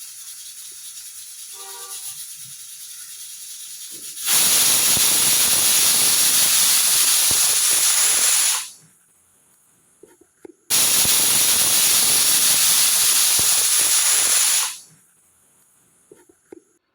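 A pressure cooker on the stove, cooking a Kerala-style prawn and raw banana curry, lets out two loud, sustained hissing steam whistles, each about four seconds long, separated by a short quiet gap with faint kitchen clicks.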